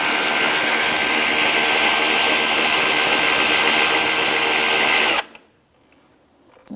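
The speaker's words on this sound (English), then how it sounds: "Loosen up the pulley nut and then the adjuster." A power tool loosens a pulley nut with a 12mm socket on a 2004-2009 Subaru Outback during A/C belt removal. It runs loud and steady for about five seconds, then cuts off into near silence.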